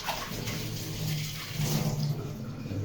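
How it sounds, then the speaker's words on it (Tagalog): A little water poured into a cooking pan, a short, continuous splashing gush at moderate level lasting a few seconds. "Okay, lagyan natin ng konting tubig."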